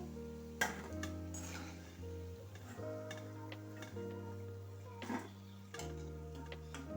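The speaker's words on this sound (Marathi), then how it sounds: "दोन्हीकडून आपली पकोडी छान फ्राय झालेली आहे आता आपण ती तेलाच्या बाहेर काढून घेणार आहोत" Onion pakoras (kanda bhaji) fry in hot oil with a steady, soft sizzle and occasional light clinks of a utensil, heard fairly quietly without talk.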